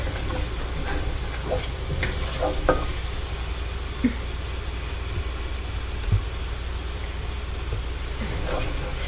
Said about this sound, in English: Let me pause and give my veggies a good stir